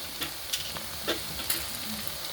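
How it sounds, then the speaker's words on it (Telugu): Whole spices frying in hot oil, including bay leaf, cloves, cinnamon and cardamom, for a ridge gourd and chana dal curry: a soft, steady sizzle with a few light stirring scrapes, fairly faint and close. "ఇవి మసాలాలు ఇలానే వేసేసుకుందాము ఇవి కొంచెం ఫ్రై అవనిద్దామండి"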